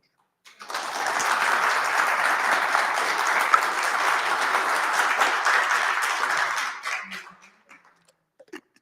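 Audience applause at a senior community talk, clapping rising quickly to a full, steady ovation for about six seconds, then thinning to a few scattered final claps.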